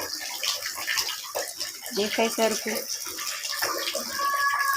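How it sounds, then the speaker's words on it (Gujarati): Water pours from a tap into a small bucket set at the edge, spilling over the rim in a steady running gush, with a person talking over it throughout. "પાણી વહી જાય છે"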